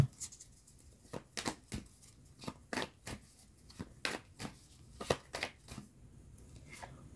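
Tarot cards shuffled and drawn by hand, a quick series of crisp riffling snaps and flicks at an irregular, fairly brisk rhythm, close and clear in a quiet room.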